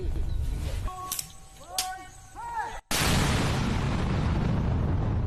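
Soldiers detonate an IED planted on a road. A sharp, very loud blast hits after a few seconds of quieter tonal sweeps and swells into a long, dense roar that fills the rest of the clip.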